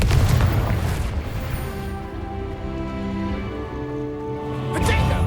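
A Confringo spell blast in Hogwarts Legacy, booming explosions at the start and again near the end, with a sustained tonal hum and rumble of magical combat between them.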